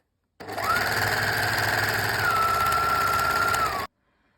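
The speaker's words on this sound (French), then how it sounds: "Maintenant, je vais surjeter la partie ourlet de toute la jupe." An overlocker sergeing the hem of a wrap skirt, one continuous loud mechanical whir of about three and a half seconds that starts and stops abruptly, close by.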